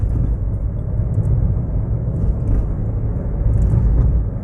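A car cruises in third gear during a driving lesson, giving a steady low engine and road rumble heard from inside the cabin. The drone is continuous and even, with no voices.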